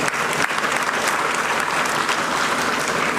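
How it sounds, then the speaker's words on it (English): Audience at a university convocation ceremony in Mangaluru breaking into a big round of applause, dense sustained clapping from many hands filling the hall, loud and continuous. "Kindly give them a big round of applause."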